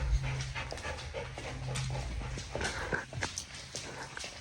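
A Shiba Inu pants close by in quick, rhythmic breaths, with a few faint whimpers mixed in and no talk.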